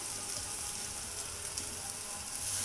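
Pineapple slices roasting on a hot tawa give off a steady, even sizzle, close and continuous, with no voices over it.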